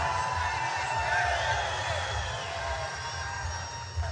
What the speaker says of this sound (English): Now, this is what we call a crowd.